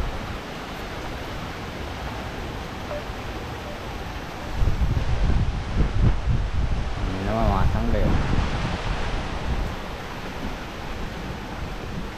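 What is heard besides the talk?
strong wind blowing outdoors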